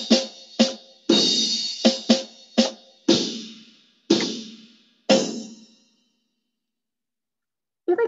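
A slow drum beat pattern called "Electric Beat", loud sharp hits with decaying tails spaced unevenly over about six seconds, then a pause before a final hit near the end.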